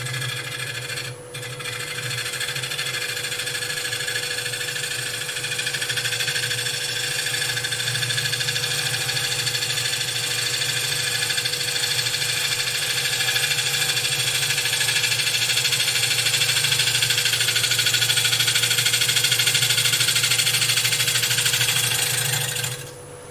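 Wood lathe spinning a bowl blank, a steady mechanical whine with a constant hum that runs unbroken at close range for the whole stretch, with a faint tool scrape early on.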